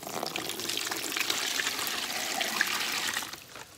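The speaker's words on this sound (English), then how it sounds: "Carry this over to our tub. Thankfully, I already took the stuff out of it." Water is poured into a tub at a spa party, a continuous gushing splash with a soft trickle as the pour tapers off at the end.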